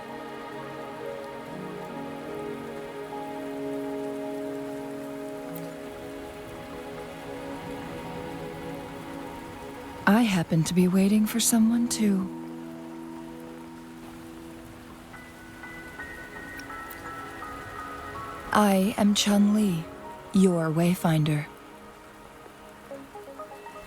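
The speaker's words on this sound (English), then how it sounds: "Are you trapped here by the rain?" Steady rain patters across a scene in the video game Wuthering Waves, a soft continuous wash beneath a sustained musical score, with a character's voice speaking in two brief passages.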